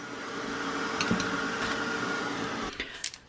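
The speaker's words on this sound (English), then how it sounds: "I can just take my heat gun and then just zap it with a heat gun" Heat gun blowing on heat-stable paste on a mixed-media craft tag with resin, a steady airy whooshing hum with a few light taps, stopping near the end.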